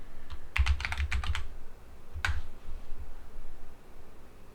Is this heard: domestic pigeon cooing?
no